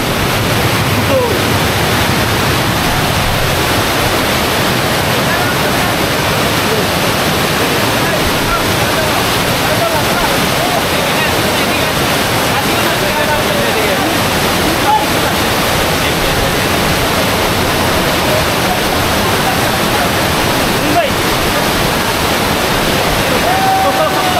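Sahasradhara waterfall in Chittagong running with a strong current, a loud, dense, unbroken roar of rushing water filling the whole stretch.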